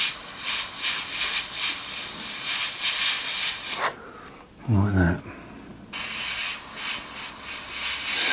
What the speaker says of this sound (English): Spraying onto the shield and just reverse it round